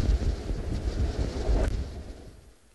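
Wind on a very windy day in the Maasai Mara, Kenya, buffeting the microphone as a loud, low, gusty roar that fades away toward the end.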